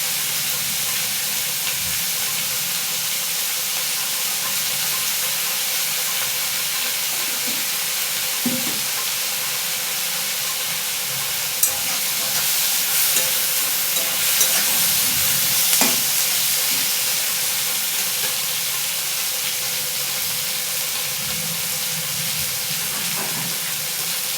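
Onions and egg sizzle steadily in a hot pan with turmeric, a continuous broadband frying hiss with a few soft stirring knocks and no voices.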